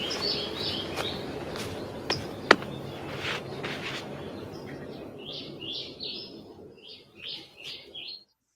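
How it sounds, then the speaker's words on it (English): Daytime birdsong used as a radio drama sound effect: soft, bright chirps repeat in short bursts, fairly quiet and emerging more clearly toward the end over a low background bed. "It's daytime and the birds are singing again."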